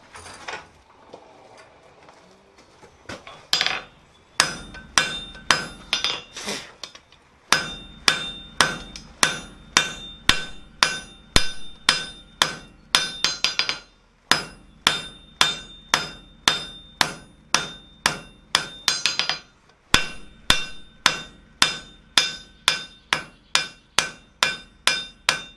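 Hammer forging steel on an anvil for a planishing foot chasing tool, with rapid rhythmic ringing metallic strikes in bursts of steady blows separated by short pauses, close and loud with no talk.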